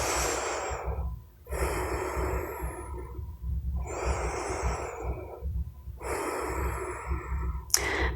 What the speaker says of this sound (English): I'll take a couple more rounds of breath.